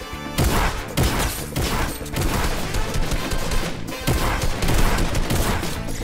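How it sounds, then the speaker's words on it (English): Gunfire from a weapon in Fortnite Season 4, loud and continuous, with shots landing in fast bursts and crashing impacts over about six seconds and no talking. "This gun just sounds sick."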